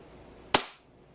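A single sharp crack from an airsoft gas blowback pistol firing a BB, one loud short report with a brief decaying tail against a quiet room.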